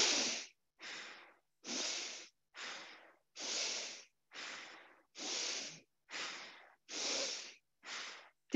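Forceful rapid breaths through the upper chest, about a dozen sharp alternating inhales and exhales in a steady rhythm, close and airy with brief pauses between.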